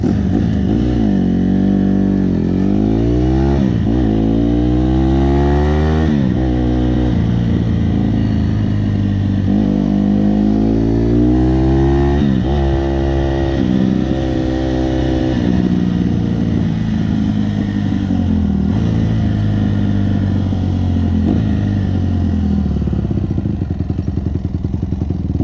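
Brand new 2015 Honda CRF 150RB dirt bike riding, its engine repeatedly revving up and dropping back through gear changes, loud and close, with a steady idle-like drone in the later stretch and no talk.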